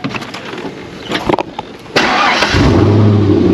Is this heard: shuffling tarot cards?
no